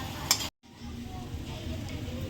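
Masala mixed with yogurt sautéing in oil for an egg curry, a low steady sizzle with faint clinks, briefly cut to silence before the frying hiss resumes.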